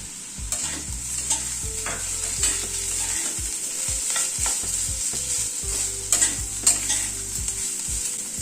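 Grated coconut fries lightly in a pan, a constant bright sizzle broken by repeated scrapes and knocks of a stirring spoon, with no talking.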